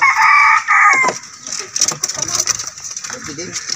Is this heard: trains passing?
no